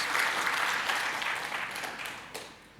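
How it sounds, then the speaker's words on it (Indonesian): A church congregation claps together during a Sunday worship service. The applause is steady and moderately distant, fades gradually, and ends with a few last claps. "Tepuk tangan dulu bagi Tuhan Yesus."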